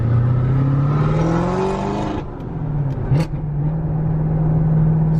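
A 1000-horsepower Camaro ZL1 roars under hard acceleration, pitch climbing before a sharp gear change cuts it, then a brief pop and the engine pulling again loudly from close by.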